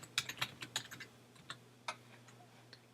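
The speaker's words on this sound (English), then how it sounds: "Type in an email address." Typing on a computer keyboard while entering an email address for a new account, a quick irregular run of crisp key clicks, close and fairly quiet over a faint steady hum, with no talk.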